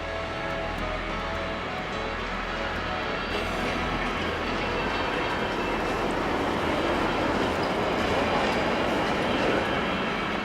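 A train runs along a Belgian railway line with a continuous rumbling roll and faint rhythmic wheel clatter, steady and fairly close, with no voices over it.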